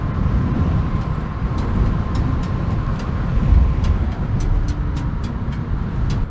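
Steady road traffic rumble with cars passing nearby, a continuous low engine drone and faint intermittent clicks over it.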